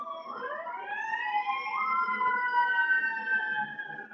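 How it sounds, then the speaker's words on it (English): Wailing sirens rise and sweep in overlapping tones at a moderate distance, steady and clear over quiet background with no talking. "you guys are hearing the sirens outside."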